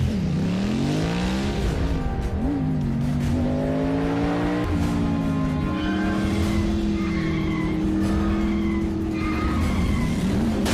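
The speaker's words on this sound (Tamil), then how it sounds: "ரேஸ் பண்றேன் இங்க தெருவுல தான்" Animated cartoon car racing and skidding down a street, giving a loud continuous tire squeal with wavering pitch over a roaring engine, close and sustained throughout, with no voices.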